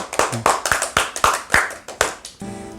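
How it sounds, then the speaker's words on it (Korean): Church congregation clapping in thanks, a close, loud series of sharp individual claps in an uneven rhythm, ending with a soft sustained tone underneath. "감사의 박수를 드립시다"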